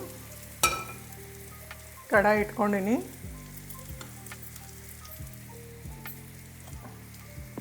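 Tempering spices sizzle in oil and butter in a kadai with a quiet steady crackle, under a regular soft ticking, while someone speaks briefly.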